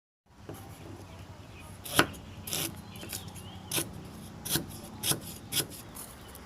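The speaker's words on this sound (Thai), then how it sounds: "หอมหัวแดงนะคะ หั่น ตำใส่กันกับตะไคร่กับพริกแห้งนะคะ" Shallots, lemongrass and dried chilies are pounded in a mortar for a Thai Isan curry paste, a series of sharp, irregular thuds and grinding scrapes repeating every half second or so, close and fairly quiet.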